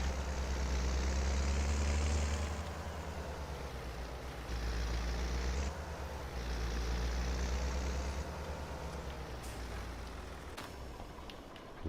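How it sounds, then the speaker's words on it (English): Tractor engine idling in Farming Simulator 22, a steady low diesel rumble with a constant drone, loud and close, holding alone without speech for about twelve seconds. "We'll get out of that noisy tractor."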